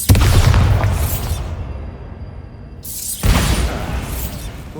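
A Bombarda blasting spell from the video game Hogwarts Legacy goes off as a loud, booming explosion with crumbling debris, dies into quiet for about a second, then a second heavy burst follows.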